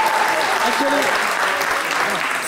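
Studio audience applause on a television talk show, steady and dense throughout, with a voice speaking briefly over it.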